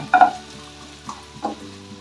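Ingredients fry in a pan until fragrant, a soft sizzle with a few brief knocks and scrapes of stirring, close and without talk.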